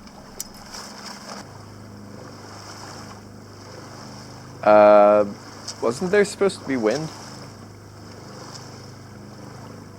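A small sailboat motors on a glassy, windless sea off Santa Barbara, driven by a 5-horsepower propane outboard. The engine holds a steady low drone throughout, with a few words of talk and some brief sharp clatter over it.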